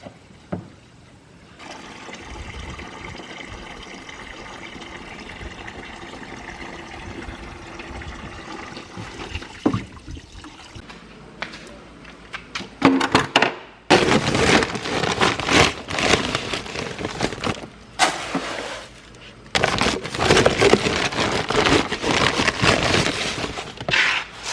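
A garden hose spraying water into a trough being scrubbed out, loud hissing bursts of spray that start and stop several times in the second half, after a quieter stretch with a low steady hum.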